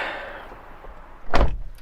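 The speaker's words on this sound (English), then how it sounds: "Closing the door, it definitely gives a nice, solid, cozy vibe." A car door on a Buick Encore GX ST swings shut with a single solid, close thud. A quiet interior hush comes before it, and a short rattle follows.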